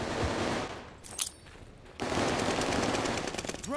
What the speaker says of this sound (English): This is supposed to be somebody who's like 5 feet away from me shooting an STG-44.